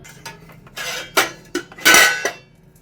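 Metal spoon clinking and scraping against a steel idli mould while batter is scooped in, with several sharp clatters and a louder burst of scraping, close by with no talk.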